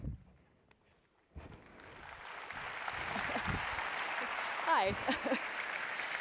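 Audience applause at a conference keynote during a closing ceremony, a sustained wash of clapping rising after a quiet opening and carrying on to the end, with a brief spoken greeting over it.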